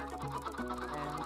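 Chickens cluck in a video game, with short pitched clucking notes close up over a steady low game background hum.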